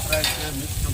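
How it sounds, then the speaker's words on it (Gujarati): Tempering (vaghar) is being stirred and fried in a pan at a Bhavnagar street food stall at night, giving a short burst of close sizzling with scraping stirring and no talk. "જોઈ શકો છો લાઈવ તમને વઘાર કરે છે."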